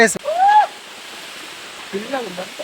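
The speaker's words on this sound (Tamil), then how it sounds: "சின்ன வாட்டர் ஃபால்ஸா இருந்தாலுமே அவ்வளோ சவுண்டுங்க." A small waterfall in a forest stream gives a steady, soft rushing wash throughout, with voices talking over it at the start and again near the end.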